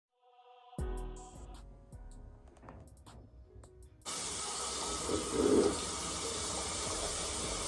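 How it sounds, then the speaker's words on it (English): A burst of makeup setting spray misted onto a face, a sudden steady hiss that starts partway in and holds loud to the end after quieter clinking and handling noises. "this can be used as a setting spray, or I usually spray this on my face when I first wake up"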